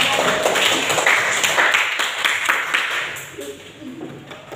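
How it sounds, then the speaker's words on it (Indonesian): A class of students clapping their hands together in a classroom, brisk dense clapping that is loudest at first and fades out over a few seconds. "Tepuk tangan dulu untuk kita semua"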